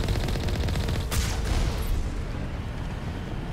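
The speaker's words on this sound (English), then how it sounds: "I'm taking direct hits from rockets, but I can't keep taking those hits" Rockets pounding the Mako vehicle in the game Mass Effect, a loud, dense barrage of rumbling blasts and gunfire with a sharp impact burst in the middle, continuing as a heavy roar.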